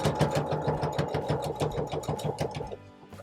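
A sewing machine stitches a dog coat in a rapid, even mechanical chatter up close, running steadily for a few seconds before slowing and stopping.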